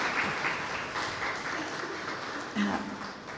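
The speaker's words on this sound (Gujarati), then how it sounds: "તાળીઓથી આપણે એમને વધાવી લઈએ ખૂબ બધી" Audience applause at a women's book discussion gathering, a moderate steady patter of clapping that fades slightly toward the end with a brief louder swell.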